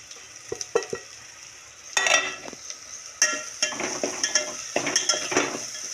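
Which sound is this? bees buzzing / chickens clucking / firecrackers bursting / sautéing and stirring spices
sautéing and stirring spices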